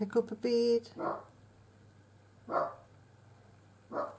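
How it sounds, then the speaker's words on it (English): A dog barks in the background, with a few short barks spaced apart at moderate distance, while a person talks during beading work. "you can hear the dog barking in the background"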